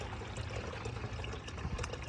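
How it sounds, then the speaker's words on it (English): Water pours steadily into a jug from a gravity-fed wash station fed by a 100-gallon buffer tank, a continuous close splashing and trickling stream with no talk. "I'm going to fill my jug up for the next test with my handy dandy gravity-fed wash station here"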